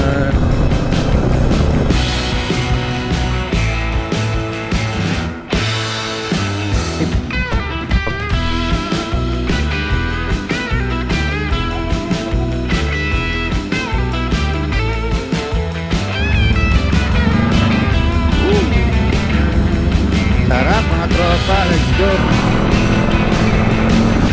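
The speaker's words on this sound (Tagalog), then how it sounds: "So ito yung motor ko, Honda Rebel." Honda Rebel 500 motorcycle engine running loud and close during a ride, with a steady droning exhaust note, gear and throttle changes, wind noise and occasional voices talking over it.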